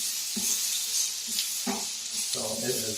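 Filet mignon pieces are tossed in a hot pan with a little fat over lowered heat, a soft continuous sizzle broken by a few louder scraping, tossing bursts, with a voice speaking over it.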